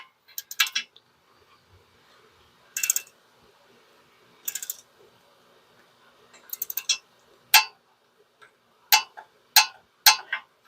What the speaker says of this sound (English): the torque spec on this nut is 22 pound-feet, which is pretty minor, but I still have my torque wrench here set up